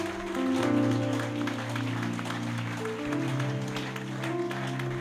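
A church congregation applauds during a worship service, giving sustained, fairly loud clapping that blends with held musical tones throughout.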